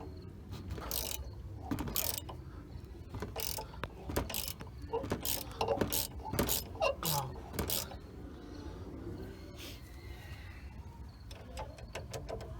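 Ratchet with a 15mm socket working a bolt on the upper control arm of a 2000 Ford Ranger, giving repeated close clicking bursts and pauses through the first half, then quieter, sparser clicks.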